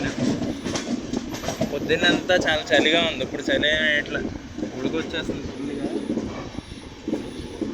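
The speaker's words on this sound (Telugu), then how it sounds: "ఎక్కడైనా ఇలా సిగ్నల్ లేక ఆగిపోద్ది, లేదంటే వెళ్తానే ఉంటుంది ట్రైన్." A train runs along the rails with a continuous rumble and clatter of wheels, while a person talks over it throughout.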